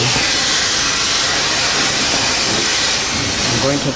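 Brake and clutch cleaner sprayed from an aerosol can during front brake pad replacement on a 2008 BMW E90 318i, a loud, steady, close hiss that runs without a break.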